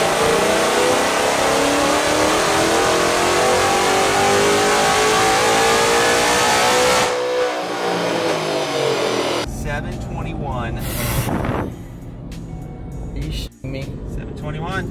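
A Ford engine fitted with a VMP Gen 3R supercharger, making 722 horsepower, revs loudly with a steady whining drone that drops back, then bursts of engine noise follow; someone talks over it.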